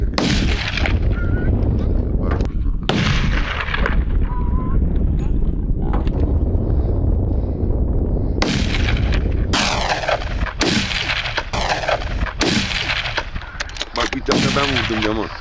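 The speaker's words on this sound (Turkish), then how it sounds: "Ben vurdum Yaman." Gunshots ring out during a wild boar hunt, several sharp broadband cracks spread across the clip over a loud, busy outdoor background, with a cluster of shots in the second half.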